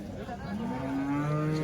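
A cow among HF and Jersey cattle at a market in Chalisgaon lets out a long, rising moo, close and loud over the crowd's murmur.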